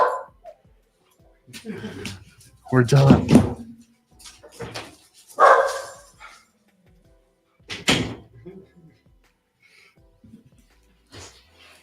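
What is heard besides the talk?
dogs barking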